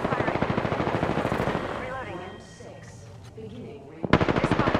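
Rapid automatic gunfire from an Apex Legends match rattles in a dense, steady stream, breaks off briefly amid softer game sounds, then resumes loud and close near the end.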